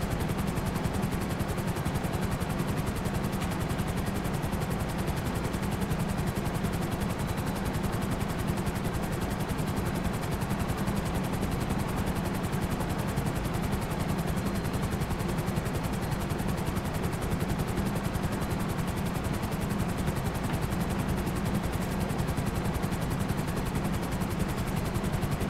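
A Sparrow helicopter in GTA, its rotor and engine making a loud, unbroken whirring roar that stays steady and close for the whole stretch, with no voices.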